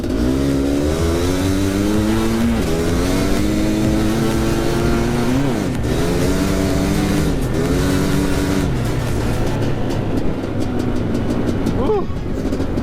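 A Yamaha Banshee or Suzuki LT500 Quadzilla quad on paddle tires accelerates hard over an icy stretch, its loud, close two-stroke engine climbing in pitch, dropping at each shift and rising again toward top speed.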